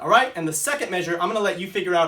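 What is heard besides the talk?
No distinct noise like a dog, phone or traffic.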